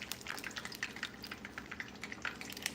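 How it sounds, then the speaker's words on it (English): Chimichangas shallow frying in a pan of oil give off a steady close sizzle with rapid crackles and pops, and no voices are heard. "we're shallow frying"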